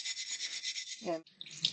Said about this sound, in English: the only thing that we're going to use on it at this point is a very soft wire brush